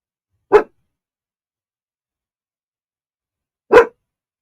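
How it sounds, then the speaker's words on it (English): Two sharp, isolated dog barks spaced about three seconds apart, each loud and close, with silence between them and no other sound. "what are you barking about? Go back to sleep."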